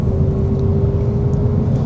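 Idling engine of a 13-year-old Porsche 911 GTS with the 3.8 liter DFI flat-six, a steady close low rumble holding one even tone for a moment, no voices.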